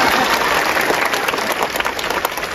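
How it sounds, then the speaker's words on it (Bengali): Dense, steady applause from a school audience at a prize event, loud and continuous with many hands clapping at once and no break. "হাততালি দাও"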